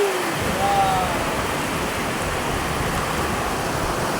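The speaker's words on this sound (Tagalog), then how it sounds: "Ulan pa rin." Heavy monsoon rain pours steadily as a dense, even hiss, close and continuous, with a faint tonal whistle early on and no voices.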